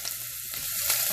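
A medium onion, roughly chopped, hits hot oil and sizzles, a close, steady crackling hiss for about a second.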